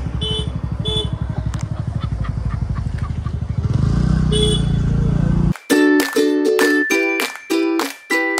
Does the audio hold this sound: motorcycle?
yes